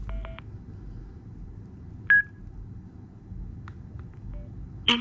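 A Sena SRL 2 intercom headset gives short electronic prompt tones, a few brief beeps and chirps spread out over quiet background hum.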